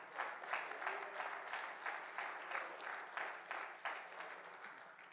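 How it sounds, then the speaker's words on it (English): A church congregation claps in worship during a Sunday family service, a steady run of rhythmic handclaps heard from a distance, fairly faint and even. "If you believe that, clap your hands and praise him this morning."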